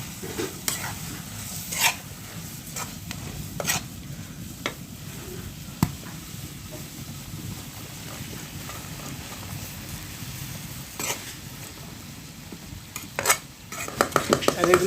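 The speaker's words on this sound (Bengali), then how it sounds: "এখন কষানো মশলাতে কফিগুলো দিয়ে দেওয়া হচ্ছে।" Chopped cabbage stirred into sizzling spice paste on a clay stove, a steady fry hiss with scattered utensil scrapes and knocks, louder clatter near the end.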